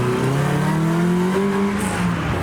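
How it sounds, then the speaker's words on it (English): Cars pulling away from a car meet, engines revving and climbing in pitch as they accelerate, a steady loud roar with a brief high tire chirp near the end. "and a few more cars are leaving."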